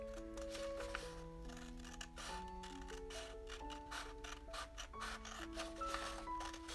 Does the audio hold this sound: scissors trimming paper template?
yes